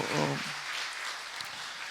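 Audience applause during a church worship service, a steady broad wash of clapping filling the room throughout, with a brief voice heard near the start.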